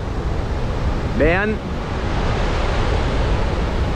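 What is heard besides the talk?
Salto La Llovizna waterfall on the Caroní river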